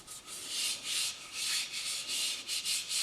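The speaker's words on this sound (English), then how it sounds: "So you can hand sand that like this" Hand sanding a wooden bowl with low-grit abrasive: a steady, close rasping scrape in repeated back-and-forth strokes, each swell of friction noise following the next in an even rhythm, with no talking.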